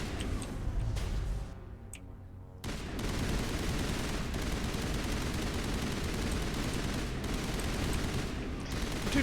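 Rapid gunfire from a sci-fi shooter, Mass Effect Legendary Edition, rattles loudly in dense continuous bursts after a brief quieter stretch near the start, with no talking.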